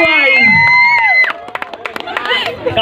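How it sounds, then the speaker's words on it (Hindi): Audience clapping and cheering for a dance group on stage at an award event, sharp claps scattered across a lively crowd after fading music. "जोरों से ताली होनी चाहिए"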